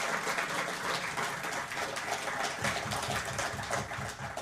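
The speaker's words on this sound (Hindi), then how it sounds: "एक बार फिर से जोरदार तालियां।" Audience at a tourism conclave applauding, a dense sustained wash of clapping from a crowd in a hall, steady throughout with no talk over it.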